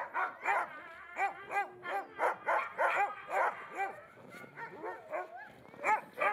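Chipmunk, a small sled dog, barks rapidly and repeatedly in high, yappy bursts mixed with whiny yips, close and continuous throughout.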